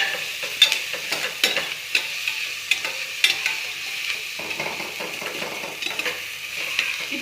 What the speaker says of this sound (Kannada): ಇದು ಸ್ವಲ್ಪ ಬ್ರೌನಿಷ್ ಕಲರ್ ಆಗೋವರೆಗೂ ಹುರಿತಾ ಇರಬೇಕು ಸ್ವಲ್ಪ